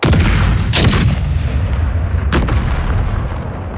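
Artillery fire in a Napoleonic-era battle game mod, aimed at advancing Prussian troops: heavy booming cannon blasts, with two sharp reports standing out over a continuous loud rumble of battle, no talk.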